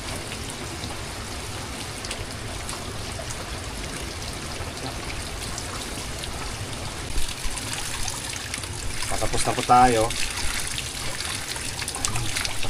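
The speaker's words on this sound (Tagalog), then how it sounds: "medyo humihinto na po yung ulan." Rain falling over a farm plot during a cherry radish harvest, a steady soft patter and trickle that continues throughout, with a voice speaking briefly near the end.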